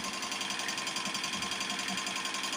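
A Tajima SAI 8-needle embroidery machine stitching a blanket, giving a steady, dense mechanical whir with a fast repetitive tapping that runs on evenly throughout, close and fairly loud, with no voice.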